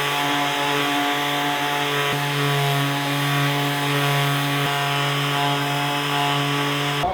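A power sander works on the transom of a 30-year-old boat, a loud, sustained motor whine with a steady tonal hum that shifts pitch slightly partway through, running close and uninterrupted.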